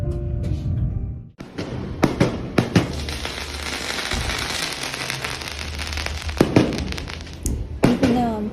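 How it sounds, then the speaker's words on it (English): Fireworks burst during Pirate Night aboard the Disney Destiny cruise ship, a dense crackling roar broken by sharp repeated booms, loud and fairly close, with no one talking. "Even though I'm posting the beautiful fireworks at the end, Pirate Night was our first night, and we got to see the fireworks"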